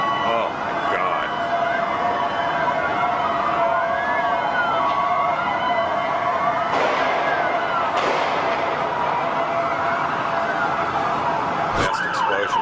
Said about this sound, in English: now there's a lot of police activity and sirens and more smoke rising from the ground